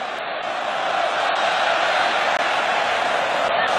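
Stadium crowd of Netherlands fans at the 2014 World Cup in Brazil, Spain vs Netherlands, a steady dense roar of applause and cheering that holds loud and unbroken throughout.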